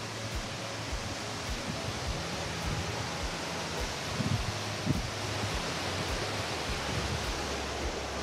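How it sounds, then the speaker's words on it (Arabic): Steady broad rush of the Wadi Darbat waterfalls, a continuous roaring wash of falling water heard from nearby, unbroken for the whole stretch with only faint bumps in the noise. "طبعا هذيلة شلالات وادي دربات."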